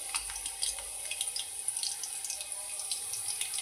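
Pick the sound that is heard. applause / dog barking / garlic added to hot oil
garlic added to hot oil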